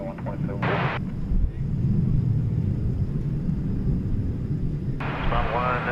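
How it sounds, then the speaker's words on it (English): A jet airliner arrives at DFW airport, a steady low rumble holding throughout at moderate level, with brief bursts of radio chatter near the start and end. "You see a plane coming in on the east side"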